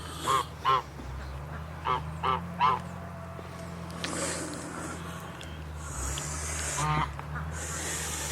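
Geese give a series of short honks in small clusters, some close and some farther off, over a low steady hum and outdoor noise.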